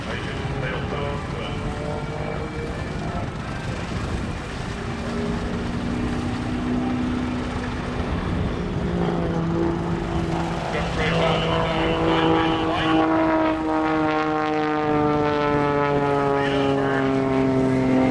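A short-coupled aerobatic propeller airplane flies at an airshow, its engine droning with a rising and falling pitch as it maneuvers overhead while an announcer talks over it.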